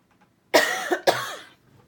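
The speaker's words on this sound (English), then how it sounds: "now I'm just going to have a cough." Someone coughs twice in quick succession, close and fairly loud. The second harsh burst follows just after the first, with quiet before and after.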